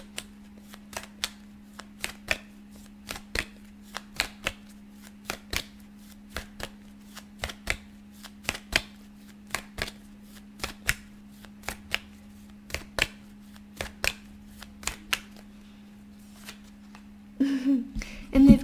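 Tarot cards shuffled by hand, a steady run of crisp riffling bursts repeating about every half second, close and fairly loud over a low constant hum, with a busier rustle of cards near the end.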